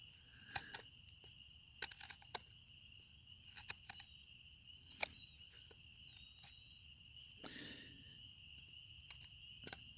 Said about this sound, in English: I don't know if y'all can hear the sound of those frogs there in the background